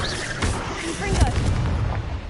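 Confringo and Incendio spell blasts from Hogwarts Legacy erupt in quick succession, dense booming bursts packed close together with a steady rumbling bed beneath, loud and continuous for a couple of seconds.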